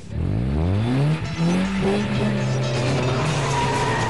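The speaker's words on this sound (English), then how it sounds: "The roaring grunt of these engines definitely inflates their egos." Modified Maruti 800 cars, fitted with an extra camshaft for more power, roar as their engines rev hard, rising and falling pitch with tire squeal, loud and close.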